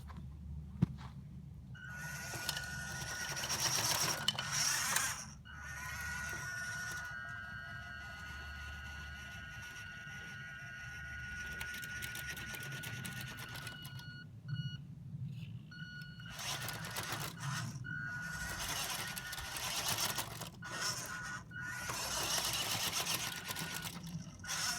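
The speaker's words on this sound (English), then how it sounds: "the faster motor, although yes, it gave it more wheel speed, it didn't really give it much more power for that steep" Small electric motor of a JJRC Q60 RC crawler fitted with a faster upgraded motor whines steadily as the truck strains up a steep climb, rising and falling in pitch with brief pauses and ticking gear noise, up close.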